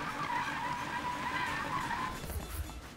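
Sustained tire squeal and skidding from a car in Need for Speed (2015), a steady screeching whine over engine roar lasting about two seconds, then easing off into rumbling.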